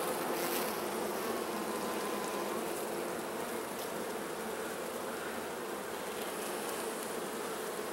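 Honey bees buzz in a dense, steady drone at an open beehive being checked for mites in October, loud and close throughout with no pauses.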